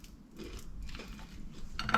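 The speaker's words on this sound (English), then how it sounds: "Such a good crunch." A bite into crunchy sourdough toast topped with feta and jam, with a few close, soft crunching and chewing sounds at moderate level and no talk.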